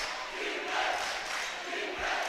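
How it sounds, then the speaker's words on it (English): A loud home crowd roars and cheers at a basketball game against SAR, a dense, continuous wash of many voices swelling and dipping, heard from within the stands. "This SAR crowd is really loud."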